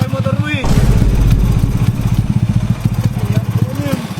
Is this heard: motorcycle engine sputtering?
yes